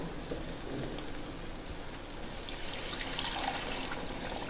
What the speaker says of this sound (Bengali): দেখুন, মশলা কষানো হয়ে গেছে, এবার আমি জল দিয়ে দেব।